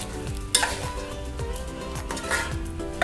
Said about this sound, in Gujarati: ખૂબ જ સારી રીતે શાંતિપૂર્વક એ મિશ્રણને હલાવ્યા રાખવાનું ધીમા તાપે